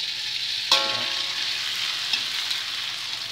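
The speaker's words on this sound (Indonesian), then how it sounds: "Dan selanjutnya kita akan goreng." Dried crackers made from leftover rice fry in hot oil with a steady, close sizzle, opening on one sharp crackle as they hit the pan and followed by a few faint pops.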